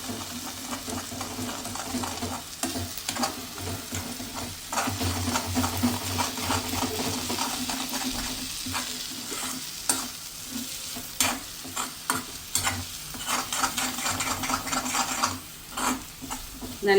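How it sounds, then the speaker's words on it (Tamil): Egg with drumstick leaves fries in a pan while a spatula stirs and scrapes repeatedly, giving a steady close sizzle broken by rhythmic scraping strokes. "நல்லா சிக்கி விடணும்."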